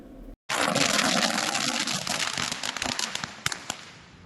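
A string of firecrackers bursts at a BJP victory celebration at Gibb Circle in Kumta. After a brief pause it starts with a loud rush of dense crackling bangs, then thins toward the end into a few sharper, separate pops.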